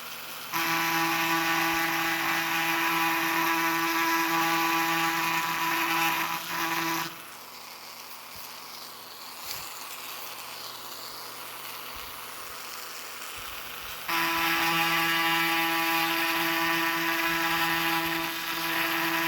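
A Dremel rotary tool with a diamond bit engraves a block of aluminum. A loud, steady high-pitched whine runs for about seven seconds, then stops to a quieter pause, and the whine starts again near the end.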